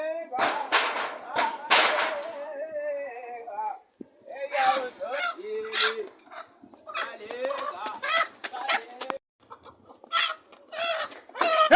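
Chicken squawking and clucking in frantic, loud bursts while being chased, shrill honking cries coming in clusters with short pauses, close by and mixed with people shouting and talking.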